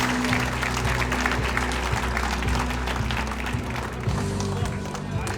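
Guests at a hall of fame dinner cheer and clap steadily throughout, a dense, sustained wash of applause from a nearby crowd with voices mixed in.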